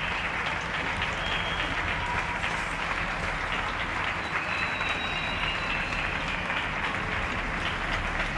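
Evening applause for healthcare workers in Getxo, a steady dense clapping from balconies and windows that continues unbroken, broad and mid-distance, with a faint high whistle-like tone drifting through.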